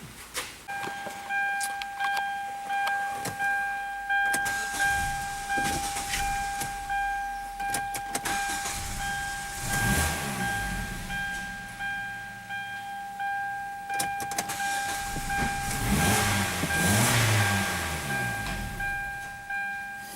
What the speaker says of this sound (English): it's starting and it seems to be running if I give it some throttle, but it dies as soon as I let my foot off the throttle